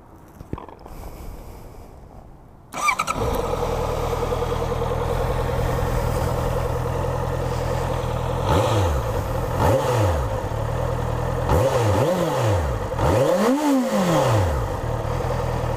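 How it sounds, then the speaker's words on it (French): A Honda CB650F motorcycle engine starts up after a quiet moment, settles into a steady idle, then revs several times with rising and falling sweeps, loud and close with no talking. "je vais démarrer ça et vous faire écouter un peu le son de la moto"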